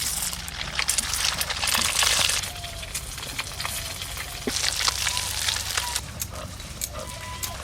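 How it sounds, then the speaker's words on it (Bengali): Duck eggs fry in hot oil with a steady, dense sizzle, louder for the first couple of seconds and then continuing evenly, with small crackles and pops scattered through. "এবারে বাকি ডিমগুলোও ভেজে নেব"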